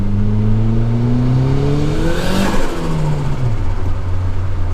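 A turbocharged car accelerates hard, engine note climbing in pitch, then a rushing burst as the tires break loose around 40 mph before the drone settles lower; no talk.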